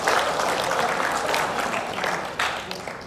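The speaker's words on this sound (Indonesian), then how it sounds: "Boleh tepuk tangan untuk Bapak Ibu semuanya." Audience applause at a political gathering of an Indonesian parliament member, a dense, loud wash of clapping from a crowd that continues steadily throughout.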